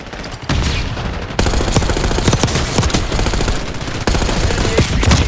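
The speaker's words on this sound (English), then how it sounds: "I love these double Hostile pistols." Dual pistols fire in Black Ops 6 aboard a bullet train, rapid loud close bursts of shots that run almost continuously with brief breaks, set against dense game noise.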